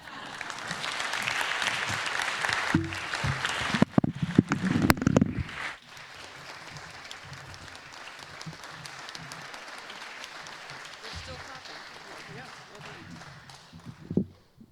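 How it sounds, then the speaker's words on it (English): Audience clapping at a state middle school civics bee final in Colorado, fairly loud at first with a few sharp knocks, then dropping to quieter scattered clapping and faint voices. "The clapping continued until the sign was placed."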